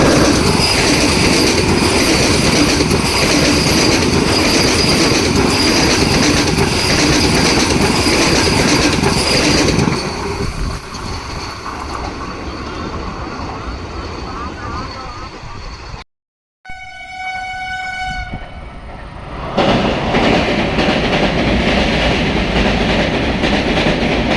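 A loud Vande Bharat Express train rumbles past on the rails with steady clatter, briefly cutting out before returning with squealing tones and continuing to roar.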